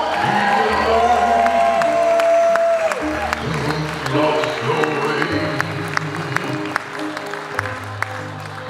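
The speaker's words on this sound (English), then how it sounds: "Ladies and gentlemen, can you clap your hands for a bride and groom out there?" Wedding reception crowd applauding and cheering for the bride and groom, a steady wash of clapping and shouts with music playing and a voice speaking over it throughout.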